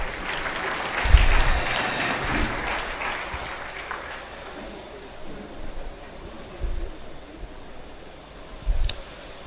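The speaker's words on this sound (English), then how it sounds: "please another round of applause for our guest lecturer" Applause from a crowd at a university convocation ceremony honoring a guest lecturer, a dense burst of clapping that swells early, then fades away into quieter room noise with a few thumps.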